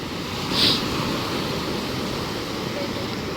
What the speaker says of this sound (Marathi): ती तुम्हाला मोठी लाट दिसते का ते आलेली बघा